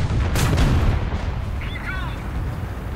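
Gunfire in the War Thunder video game, heard as a quick cluster of heavy booming shots up front that trail off into a rumbling background, with a voice talking faintly.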